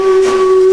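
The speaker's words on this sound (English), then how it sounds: "The following morning we're on Bratislava Station, just in time to see one of these steam-hauled specials" A steam locomotive on a steam-hauled special at Bratislava Station gives a single loud, sustained whistle blast with a steady hissing edge.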